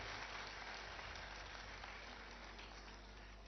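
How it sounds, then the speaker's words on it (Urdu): Students applauding at a media talk, a steady wash of clapping that keeps going evenly throughout, faint and distant in tone. "میں اسٹوڈنٹ سے کہوں گا کہ زوردار تالیاں بجائیں"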